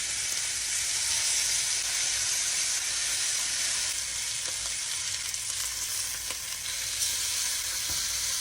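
Oxtail browns in a pot, with a loud, steady, crackling sizzle that carries on without a break and a few faint clinks underneath.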